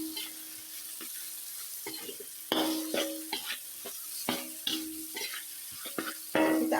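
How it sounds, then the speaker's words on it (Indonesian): Diced grilled oncom being stirred with lime leaves in a pan, giving close, irregular scraping and clattering stirs over a steady low sizzle, with no talking. "Selanjutnya kita akan aduk-aduk."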